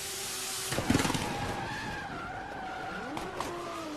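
A Toyota drifts at a Red Bull car park drift event in Oman in 2015, its engine revving and tyres skidding and squealing in bursts, moderately close, with no speech.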